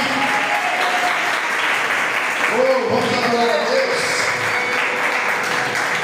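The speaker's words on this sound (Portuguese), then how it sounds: "Você pode aplaudir Ele por causa disso." A church congregation claps steadily through a Sunday worship service, a dense continuous applause with a voice speaking and a sustained musical tone over it.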